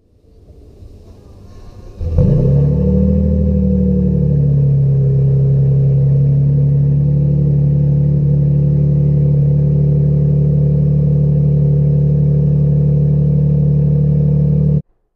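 2024 Toyota Sequoia TRD Pro with the iForce Max engine starting to drive, a steady low engine drone and cabin road rumble holding evenly and loud inside the vehicle.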